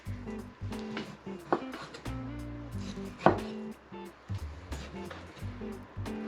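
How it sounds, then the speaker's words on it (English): A knife chops pork into small pieces on a cutting board, giving a run of sharp, uneven thuds over a low background hum. "So we're going to cut our pork into small pieces"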